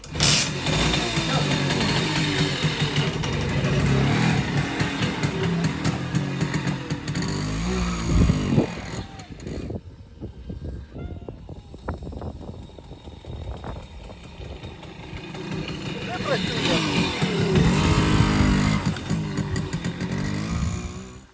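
An MZ ETZ 250 motorcycle engine, its clutch stuck after sitting through winter, revs loud and close. It drops back toward a rough idle midway, then climbs again into a sustained rev.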